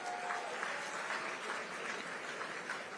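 Steady, dense applause from an audience at the Jamaica Creative Career Expo, welcoming Thalia Lynn; many hands clap together in an even wash that holds for the whole stretch without a voice.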